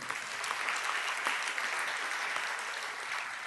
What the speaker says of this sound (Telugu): ఇప్పుడు కొట్టాలి చప్పట్లు.